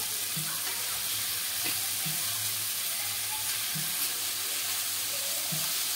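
Shredded cabbage goes into a pan of spiced vegetables for a rohu fish-head cabbage dish. A steady close sizzle is broken by soft, regular stirring knocks every second or so, with no talking.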